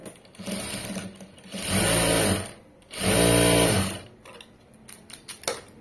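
A sewing machine stitches fabric in two loud, steady bursts with a short pause between, then quieter handling clicks at the end.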